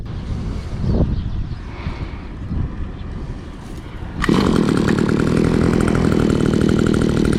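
A brush cutter engine in Japan starts partway through after quiet handling noises, then runs loud and steady at a high buzzing idle, close by.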